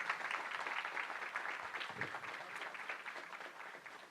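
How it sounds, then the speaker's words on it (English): Audience applause at an international gala dinner in Toronto, a steady, moderately quiet wash of clapping that holds evenly for several seconds. "he deserves another round of applause"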